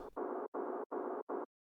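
A kick drum reverb tail with an aggressive high-cut EQ, muffled and dull, repeating as four short even bursts in quick succession, faint and alone.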